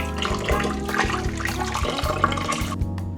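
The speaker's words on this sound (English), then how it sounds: "Place your jars in and then add 8 cups of hot water. So I'm gonna use hot tap water." Hot tap water pours steadily into an electric pressure canner holding jars, making a continuous splashing rush that is loud and close, with no talk over it.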